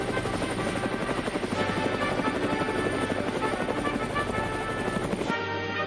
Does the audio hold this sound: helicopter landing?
yes